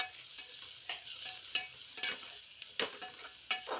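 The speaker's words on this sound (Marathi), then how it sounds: "आता आपण टाकून घेणार आहे खोबरं, आलं लसूण." Sesame seeds, coconut and ginger-garlic sizzling in hot oil for a tempering, a soft continuous crackle broken by several sharp spits and stirring clicks, with no talking.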